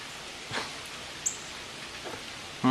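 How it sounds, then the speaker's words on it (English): Light rain from Hurricane Irene patters softly outdoors as a faint, steady hiss, with a few small bumps and a rustle over it. "Will it stop the rain?"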